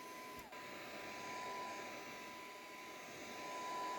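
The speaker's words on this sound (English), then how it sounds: "And you puff it up with a heat gun, and you get a really interesting texture." A heat gun puffing up a texture medium gives a steady, even blowing roar with a constant high whine running through it, heard alone and close throughout.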